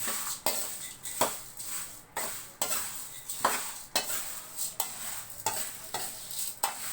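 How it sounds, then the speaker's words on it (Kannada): Puffed rice churumuri being mixed with a tempering, rhythmic scraping and rustling stirring strokes repeating about every half second to second, close and fairly quiet, with no talk. "ಅದು ಚುರುಮುರಿ ಮಂಡಕ್ಕಿ ಅದಕ್ಕೆ ಹಾಕ್ಬಿಟ್ಟು ಚೆನ್ನಾಗಿ ಮಿಕ್ಸ್ ಮಾಡಬೇಕು ಫ್ರೆಂಡ್ಸ್"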